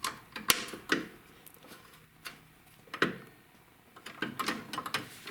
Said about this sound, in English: now you can tighten up the bolts without the shaft turning on you